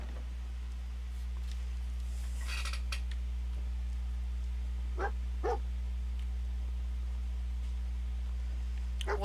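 Dog in the video game Fallout 4 letting out a few short, faint barks and yips spaced apart over a steady low background hum, with no talking during the clip.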